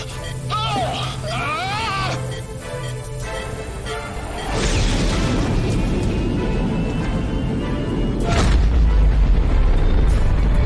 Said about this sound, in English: there's been an explosion on the far side of the moon